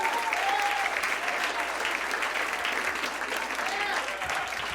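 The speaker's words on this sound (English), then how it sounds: "Give him a big round of applause." A comedy club audience applauds a returning comedian, Big Sky Festival winner Chris Cope, with steady dense clapping and some whoops, loud and sustained throughout.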